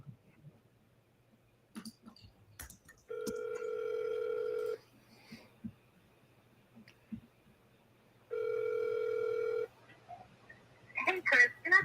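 A telephone line at a real estate office gives two long steady ringback tones several seconds apart, with faint clicks and rustles between them and a brief burst of voices at the end.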